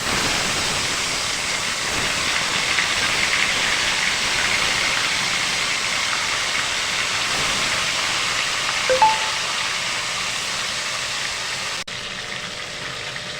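Salted, turmeric-coated nihar fish frying in hot oil in a wok gives a steady, close sizzle and hiss, with a brief utensil clink partway through.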